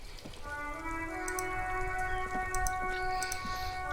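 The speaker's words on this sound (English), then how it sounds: "Is raining now." Steady rain falls in the video game Disco Elysium, a continuous soft patter with scattered drips, mixed with a sustained tonal drone of ambient music.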